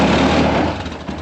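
A vehicle engine runs with a steady loud rumble and droning hum on frozen winter ground as it is put into four-wheel drive, the level easing slightly toward the end.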